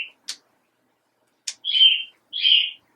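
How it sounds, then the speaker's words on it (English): Cookie, a pet bird kept indoors, lets out a few sharp clicks followed by two clear whistled chirps, each drawn out briefly, close and alone in a quiet room. "That is my mom's bird, Cookie, saying hi."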